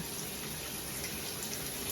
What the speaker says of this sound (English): Are you liking your shower